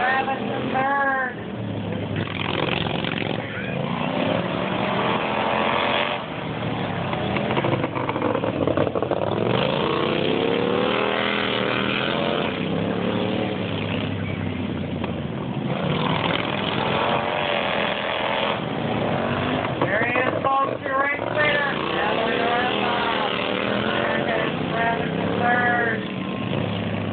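Racing lawnmower engines buzz and whine through a race, their raspy pitch rising and falling continuously as machines rev and pass, loud and dense for the whole stretch.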